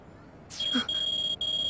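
A cell phone in the video game Akiba's Trip rings with a sharp, high electronic tone that holds steady and breaks off briefly once. A short voice-like sound comes just before the ringing starts.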